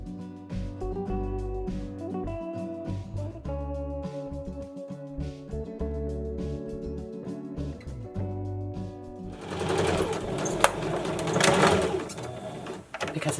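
A sewing machine runs a quick basting stitch around a fabric face mask, whirring in close bursts and then speeding into a denser, busier run near the end.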